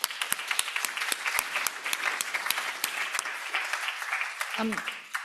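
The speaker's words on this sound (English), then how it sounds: "let's have a round of applause for the panel" Audience applause for a panel at a conference session on the EAT Lancet Commission, a full crowd clapping steadily with sharp individual claps standing out, and a brief voice near the end.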